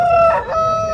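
A rooster crows at a village poultry market, one loud close cock-a-doodle-doo with a clear rising and falling call lasting about a second.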